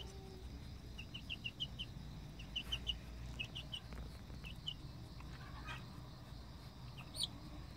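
Faint, quick clucks from a farmyard chicken, repeated in short scattered bursts over a low steady rumble, with a sharper call near the end.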